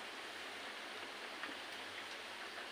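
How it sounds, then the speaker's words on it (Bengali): Rain falling outside during a power cut, a faint, even hiss of steady rainfall heard from indoors throughout, with no talking. "বাইরেতে বললাম বৃষ্টি হচ্ছে"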